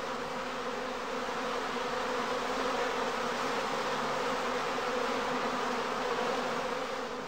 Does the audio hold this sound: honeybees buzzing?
yes